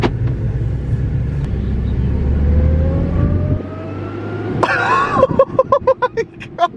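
An Audi S4 with a newly fitted aftermarket exhaust idles with a deep rumble, then gets a short light blip of throttle that barks into a rising rev and crackles back down, close and loud, with a person heard briefly.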